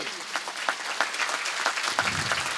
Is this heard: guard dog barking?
no